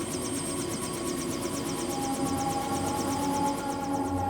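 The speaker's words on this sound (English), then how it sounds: "I hear the chopper, the rotor, in place." A helicopter rotor hovering in place in front of a prison, heard as a steady, rhythmic whirring pulse that stays level and unchanging throughout.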